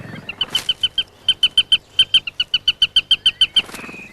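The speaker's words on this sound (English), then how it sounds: "the sparrowhawk." Sparrowhawk near its nest in a bluebell wood, giving a rapid series of about twenty sharp, evenly spaced high calls, loud and close, with no other voices.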